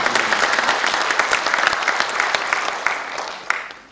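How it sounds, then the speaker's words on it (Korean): A hall of volunteers at the Icheon city volunteer commemoration ceremony bursts into loud, dense applause that gradually thins and fades toward the end. "동의해 주시면 큰 박수로"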